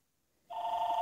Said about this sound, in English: I'm ignoring my house phone that's ringing